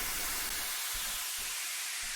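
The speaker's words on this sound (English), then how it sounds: "the effects group is just sort of white noise, kind of fills and sweeps and stuff to help just kind of glue like sections together" A white-noise effect from a music mix, used as a fill or sweep to glue sections together, hisses steadily and evenly throughout, bright and airy with no voices.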